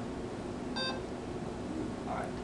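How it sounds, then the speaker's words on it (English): A short electronic beep rings out once from an iRobot research robot, followed by faint background noise and a brief murmur. "Once that beeps."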